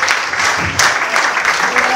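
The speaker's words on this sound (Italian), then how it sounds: "Facciamo un applauso al pusher di Andrea" Brief burst of audience clapping at a live comedy show, a short dense patter of applause from a crowd, fairly loud and continuous for a couple of seconds.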